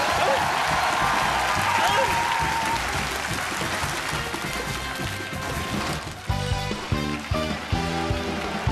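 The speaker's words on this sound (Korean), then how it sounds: "박수!" Audience applause on a Korean TV comedy stage after a pigeon magic troupe sketch, a dense steady clapping wash with some crowd noise, shifting into brighter music-like tones near the end.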